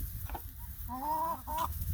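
A few chickens clucking close by, short bursts of tonal clucks with brief pauses between them over faint background noise.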